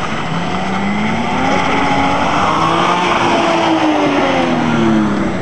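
A twin-turbo Toyota Supra engine drives loud and close, with a steady mid-pitched drone that rises and swells in revs. The note bends through pitch sweeps as the car moves, and no one speaks over it.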